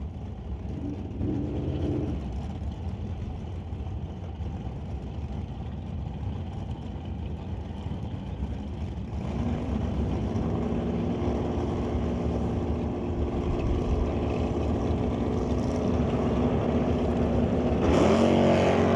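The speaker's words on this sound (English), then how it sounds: "BC Scale Johnson's Customs Exhaust Malibu Wagon facing off against the Rad Torque Systems Titanium Auto Group S10." Drag race cars at a pro race, a Chevrolet Malibu wagon facing off against an S10, heard as a distant, steady engine roar that swells and grows louder toward the end.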